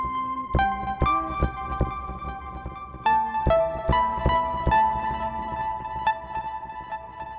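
A SynthMaster preset synth, played without its arpeggiator, sounds sustained melodic notes with plucky attacks and a low bass line, clear and alone with no voice.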